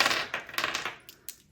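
Crystals set down onto tarot cards during a reading, giving a few close, light clinks and taps with small hard rattles, fairly quiet and without talk.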